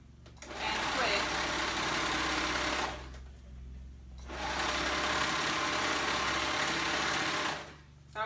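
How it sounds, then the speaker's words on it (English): A cover stitch sewing machine hums steadily while hemming a top, running in two long stretches with a brief pause between them. "I'm gonna go do it over here on my cover stitch."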